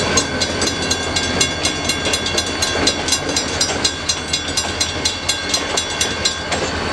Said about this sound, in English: LSRC locomotive